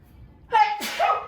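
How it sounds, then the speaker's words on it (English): A single loud sneeze set off by pepper while cooking bacon and eggs, a sharp gasping intake followed by a forceful burst, close up and alone against a quiet background. "the pepper's going to make me sneeze"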